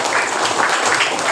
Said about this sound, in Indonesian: Silakan dulu berikan tepuk tangan untuk teman-teman kita.